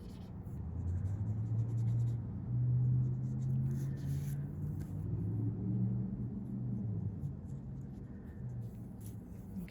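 A paintbrush lays a light watercolor wash over a painted bird on watercolor paper, giving soft, steady brushing and scraping at close range over a low background rumble, with no talking.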